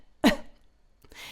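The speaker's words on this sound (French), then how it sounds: "faites exprès de tousser" A person deliberately coughs once during a voice-strengthening exercise. The single sharp cough is close and loud and is followed by faint breathing.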